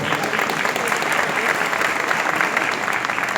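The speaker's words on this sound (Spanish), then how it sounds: "Un fuerte aplauso para ellos, por favor." Audience at a youth conference gives a strong, sustained round of applause, dense and even clapping filling the hall without pause.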